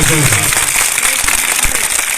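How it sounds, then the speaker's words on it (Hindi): Audience applause at a school function in Sarmera, Nalanda, following a sung and played Ganesh invocation; dense, steady clapping fills the whole stretch, with a voice briefly audible at the start. "तालियां जोरदार होनी चाहिए।"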